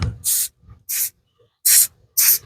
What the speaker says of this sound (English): We'll spray a little activator on it